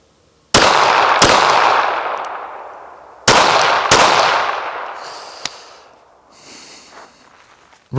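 Four sharp, loud shots from a Smith & Wesson Performance Center Bodyguard 2.0 Carry Comp subcompact pistol fired at close range, coming in two quick pairs with ringing decay after each, then faint handling noises.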